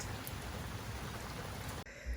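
Steady rain falls continuously as a dense, even hiss of drops on surfaces, then cuts off abruptly near the end.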